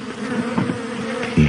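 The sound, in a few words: bees buzzing around beehives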